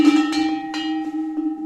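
Old 19th-century rural bells of different pitches are struck one after another, about five clear metallic strikes in quick succession, each ringing briefly and overlapping the decay of the one before.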